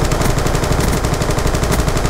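Sustained automatic gunfire in the online shooter game Black Ops 2, loud, dense and rapid with continuous rattling bursts throughout, no talk.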